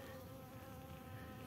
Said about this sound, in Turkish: Arıların seslerine bakın arkadaşlar. Nasıl çalışıyorlar vızır vızır.